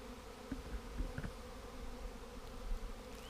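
A large honeybee swarm clustered in the open, its buzzing a steady, faint, diffuse hum with a few brief louder passes of single bees, and no talking.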